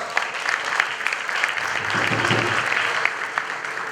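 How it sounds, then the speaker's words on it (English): Audience clapping at a school graduation ceremony, a broad wash of applause at moderate level, with a brief low murmur of voices rising midway through. "A round of applause for DPSI."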